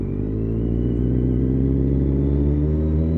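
A 125cc motorcycle engine revs hard in a steady, loud, buzzing drone that climbs slightly in pitch, with no talking.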